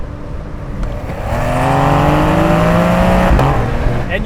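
Porsche 911 Targa accelerating hard, engine note rising steadily in pitch over a few seconds before an upshift, loud and close with no talk; the 1986 car has a naturally aspirated 3.2-liter flat six and five-speed manual, the 2021 a PDK.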